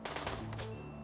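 Rapid gunfire from a colonist shooting in the colony-survival game RimWorld: a quick cluster of several sharp shots, fairly faint, followed by a ringing tail.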